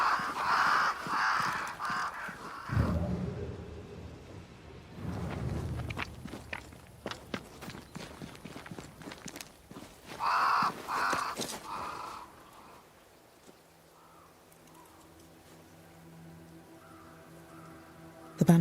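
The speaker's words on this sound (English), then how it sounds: "Crows. They flock to that great tree up there." Crows cawing in the video game Banishers: Ghosts of New Eden, a few harsh calls early and again mid-clip, mixed with footsteps and ambient game sound, fading to a quiet hum toward the end.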